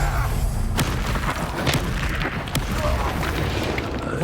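A magical disarming spell bursts in the Hogwarts Legacy video game, a deep booming impact followed by rumbling, crackling debris-like noise.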